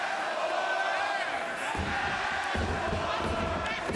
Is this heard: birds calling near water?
no